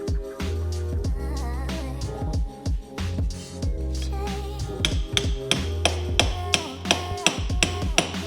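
Repeated lump hammer blows knocking a boat bow eyelet assembly loose in a shed, sharp metallic strikes at an irregular pace that grow more regular and evenly spaced toward the end, close and loud.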